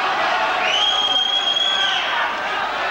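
A boxing crowd at Preston's Guildhall roars and cheers on its feet during a fight's final round, a loud sustained wash of voices with a shrill whistle rising above it.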